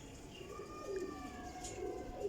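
Teddy pigeons coo softly in a loft, low repeated throaty coos at close range over faint background noise.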